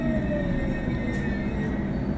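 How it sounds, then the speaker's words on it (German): An S-Bahn train on line S9 pulls into platform 1 in Train Simulator, a steady low rumble with faint whining tones and no speech. "eingefahrener Zug auf Gleis 1, S9, nach Flughafen Schönefeld"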